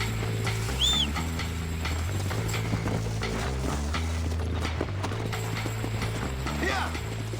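Horse hooves clip-clop steadily in Red Dead Redemption, rhythmic and close over game music and ambience, with a short whinny early on and someone talking over the top.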